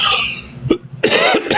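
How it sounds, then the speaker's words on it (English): A person coughing and clearing their throat while eating a cough drop, a few harsh close bursts separated by short pauses, alone with no talk. "Coughing while eating a cough drop."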